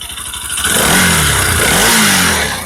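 A Bajaj Pulsar RS200 motorcycle engine, just repaired after crank and compression trouble and a clutch plate fitting, starts up and revs in a loud, steady roar with some mechanical clatter close by.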